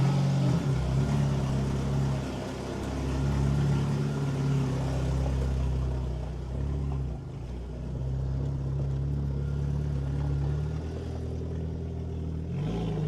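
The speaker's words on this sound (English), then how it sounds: "This will be a good test for the new microphones driving a Jeep in the wind." A Jeep's engine rumbles low and steady while driving in wind, with loud continuous drone, slight swells in throttle and rattling road noise, no talking.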